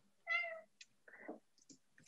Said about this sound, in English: So you will be seeing my cat periodically.